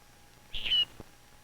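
A Galapagos finch gives a short, clear chirping call lasting about a quarter second, heard close and alone against quiet background hiss, followed by a faint soft tap.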